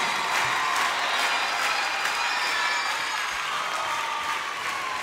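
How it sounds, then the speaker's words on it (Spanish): Sustained applause from a live concert audience, steady and dense throughout, with faint crowd cheering mixed in. "El aplauso fuerte para Sergio."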